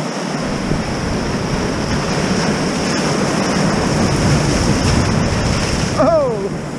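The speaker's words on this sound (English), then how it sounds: "Good waves though." Ocean waves break on a beach under cold, stormy conditions, a loud, steady roar of surf with wind, and a short voiced exclamation near the end.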